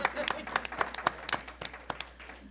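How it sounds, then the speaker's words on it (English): Scattered clapping from a few people at a school committee meeting after a motion carries, sharp individual claps in an uneven rhythm close by, with a voice speaking among them. "I'm gonna clap for that."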